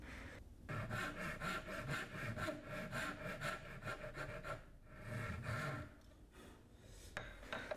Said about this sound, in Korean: 톱질은 가공선을 기준으로 해 엄지로 톱을 맞춰 선에 톱을 넣습니다.